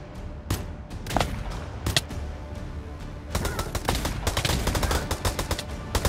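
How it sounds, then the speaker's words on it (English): Video game gunfight in The Last of Us: sharp gunshots crack in irregular bursts, some single and some rapid, loud and close, with no talking. "Now I'm in a gunfight all alone."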